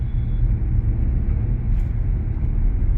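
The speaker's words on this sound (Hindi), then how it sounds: "ये एक ऑटो गया भाई, इतनी आवाज नहीं, लेकिन आपको पूरी की पूरी अंदर सुनाई देगी" An auto-rickshaw passes outside a Maruti Brezza with its windows up, heard from inside the cabin as a muffled, steady low rumble of road and engine noise for a few seconds.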